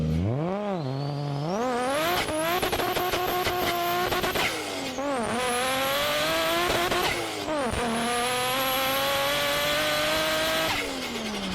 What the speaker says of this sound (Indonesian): Penggunaan turbin ini juga kenapa mesin turbo ngasilin suara khasnya.